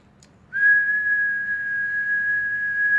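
A human voice imitates an incoming cruise missile with a long, steady, high whistle that starts abruptly and holds at an even pitch for over two seconds, loud and alone.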